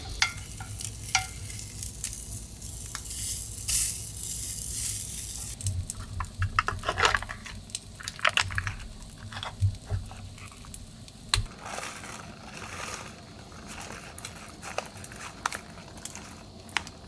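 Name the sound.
sausages frying in a pan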